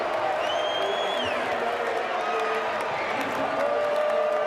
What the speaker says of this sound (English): And to be fair, there is some applause.